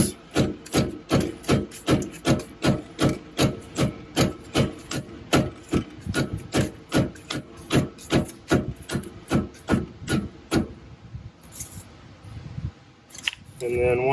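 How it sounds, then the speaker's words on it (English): A rubber mallet taps a wheel hub dust cap loose during wheel bearing service, making a steady run of about thirty quick, even knocks close by. The knocks stop near the end, leaving softer handling noise. "take off this dust cap, and I found the best way to do that is with a rubber mallet"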